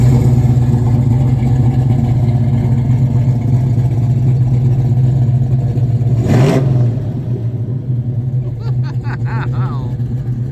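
A classic American muscle car's engine, a V8 running from the start, holds a loud, steady low rumble for most of the stretch. A brief sharp sweep cuts through midway, then the note settles lower while voices talk faintly nearby.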